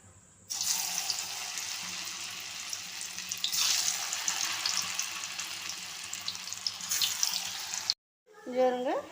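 Raw banana slices drop one by one into hot oil in a pan, setting off a close, bright sizzle that swells and settles over several seconds before a sudden break.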